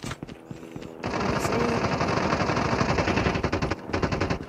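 Rapid automatic gunfire from the video game Call of Duty rattles in long, dense bursts after a few scattered shots. It is loud and close, with no voices during the firing.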